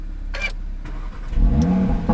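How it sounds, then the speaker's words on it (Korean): An Audi RS3 with a 400-horsepower five-cylinder engine starts up: a short quiet stretch, then a deep rumbling catch and a brief rise in revs, loud and close. "자, 시동 걸었습니다."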